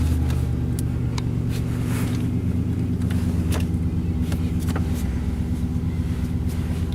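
A car engine idles at about 1,000 RPM just after starting, a steady low rumble that holds evenly throughout with faint clicks and ticks above it.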